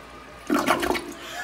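A restroom toilet in a men's room flushes with a sudden loud rush of water that lasts about half a second before settling into a lingering fading swirl, recorded from some distance with no one talking.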